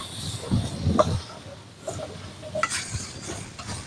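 Pointed gourd stirred in a pan with soybean oil, onion, chilli, cumin, turmeric and salt, giving soft sizzling under intermittent scraping and clinking of the spatula against the pan, close by and alone.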